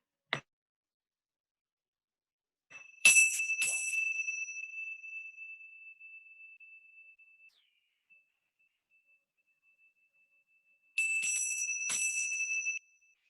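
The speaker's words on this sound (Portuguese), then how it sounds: "tocar um pouco o sino e vocês vão acompanhar o som" A small bell rung twice, each strike a bright ding with a clear pure tone that rings on and slowly fades over several seconds, heard alone in near silence.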